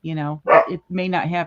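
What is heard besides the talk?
dog barking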